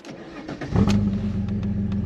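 An Italian GT with a 3.2 V6 cranks briefly and fires up, the engine catching with a loud burst and settling into a steady, deep idle rumble heard up close.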